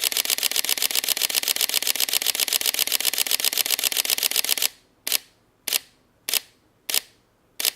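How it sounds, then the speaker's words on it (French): A Sony A7 III shooting a continuous burst in RAW gives a fast, even stream of close shutter clicks for several seconds. The clicks then slow to single, widely spaced shots once the buffer fills. "On est donc bien en prise de vue continue, donc en rafale."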